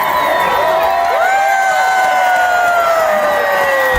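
At the start of a sled dog race in Marquette, Michigan, a large outdoor crowd cheers loudly, with sustained shouts and whoops layered over a steady roar of voices.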